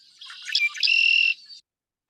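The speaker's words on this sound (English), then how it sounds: "so there's our Redwing Blackbird" Red-winged blackbird song in early spring in Kentucky: a short, buzzy, rising conk-la-ree phrase ending in a sustained trill, clear and fairly close against a silent background.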